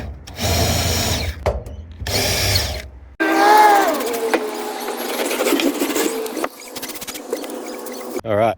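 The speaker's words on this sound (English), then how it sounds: "Try and keep your drill straight so that it doesn't wander, and then go for it" A power drill bores holes in a metal ute canopy door in short bursts, whining and grinding with pauses between, the pitch sagging as the bit bites through the sheet, with a voice talking faintly in places.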